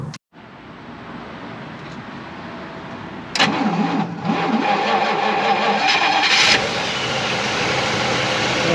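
A 1955 DeSoto Firedome with a 291 Hemi V8 on a 6-volt system cranks over and fires, then settles into a steady, smooth idle with a brief rev, loud and close with no talk.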